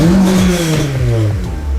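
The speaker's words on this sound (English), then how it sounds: "let's try revving this thing" A Honda S2000 car engine revs up loudly nearby, the pitch rising then dropping back as the throttle eases.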